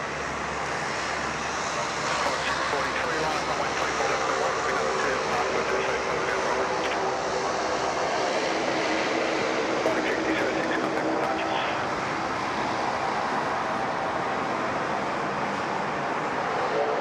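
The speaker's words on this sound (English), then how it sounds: "another A330, just about to grease the mains here on runway 3 for left" Airbus A330 airliner touching down on the runway at Sydney Airport, a steady, loud roar of jet engines that fills the whole stretch, with someone talking over it.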